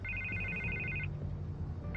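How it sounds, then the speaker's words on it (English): A telephone rings in the Batman Telltale Series video game, a steady electronic trill that sounds for about a second, pauses, then starts again, clear but moderately quiet over a low background hum. "I can't get the phone to stop ringing."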